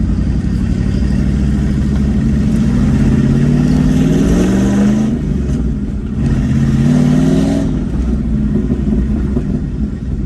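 A turbocharged 5.0 Ford Ranger pulls away with a deep, loud engine rumble heard from inside the cab, rising through two revving climbs with a shift gap between them, then easing off to a steady cruise.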